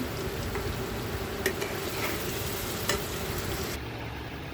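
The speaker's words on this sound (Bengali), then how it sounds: "পনিরটা ভাজা হয়ে গেছে" Paneer fries in a pan with a steady, soft sizzle and occasional faint clicks of stirring, continuous and moderately quiet throughout.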